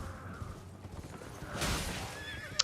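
A horse neighs in the video game Elden Ring, a loud rising whinny with a rush of breath near the middle, over quiet game ambience and light clopping.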